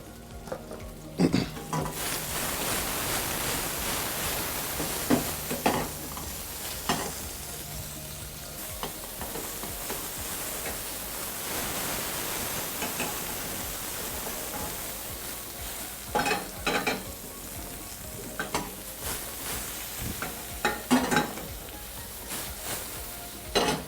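Salted onions toast in a pan while being made ready for beef liver, a steady close sizzle with intermittent scraping stirs and occasional utensil clatter.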